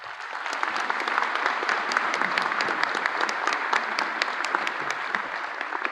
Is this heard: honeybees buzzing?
no